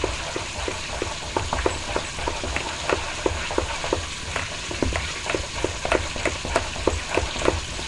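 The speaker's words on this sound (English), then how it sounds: "you're going to whip it. If you have a beater, use that." Cheesecake filling is whipped with a beater for a strawberry cheesecake, mixed like vanilla pudding. Steady, rhythmic strokes tap and swish at close range with no voices.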